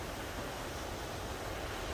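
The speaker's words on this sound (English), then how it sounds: "This here is a fresh spring waterfall, and it's natural water." A fresh spring waterfall of natural water rushes in a steady, dense broadband roar, close and continuous throughout with no voices.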